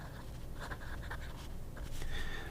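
Steel fine nib on a standard number 8 fountain pen scratching across paper in short, close strokes, fairly quiet over a steady low background hum.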